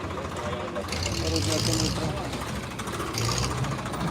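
A new Massey Ferguson 243 tractor idles with a knocking diesel chug at an outdoor tractor market, a steady rhythmic engine beat with voices talking over it.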